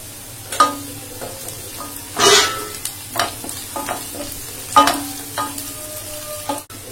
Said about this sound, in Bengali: এখন পেঁয়াজের সঙ্গে ভালো করে এটা ভেজে নিব।